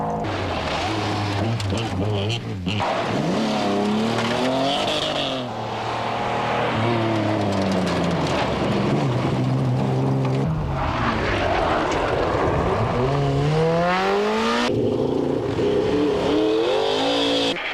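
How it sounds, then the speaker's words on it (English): Alan Fretwell's 1991 Subaru Legacy rally car on a tarmac stage of the Targa rally, its engine revving loudly up and down through gear changes with rising and falling pitch, close and continuous. "And in fourth place, Alan Fretwell in his 91 Subaru Legacy"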